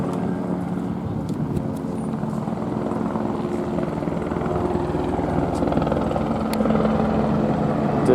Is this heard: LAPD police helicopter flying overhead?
yes